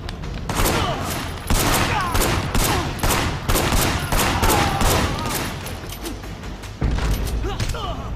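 Repeated loud gunshots and bursts in the Sleeping Dogs video game, a shootout with sharp evenly spaced cracks and heavier thumps over several seconds, with some voices underneath.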